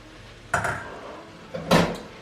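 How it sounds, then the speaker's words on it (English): A pot of linguine and meatballs in tomato sauce is stirred with two short bursts of clattering utensil-on-pot contact, a first knock followed a second later by a louder scrape, with no talking. "Then we're going to give it a stir."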